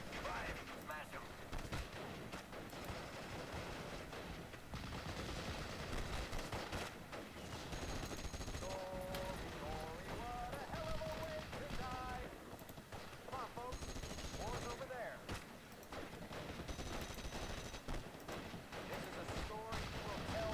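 Continuous gunfire from Steel Division: Normandy 1944, with dense machine-gun bursts and heavier battle blasts rolling across the whole stretch, and voices talking over the combat.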